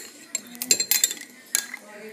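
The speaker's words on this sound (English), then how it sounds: "now we stir it all together" A spoon stirs a mixture with a splash of milk in a bowl, clinking and scraping against the sides in quick irregular bursts, close and moderately loud with no talking.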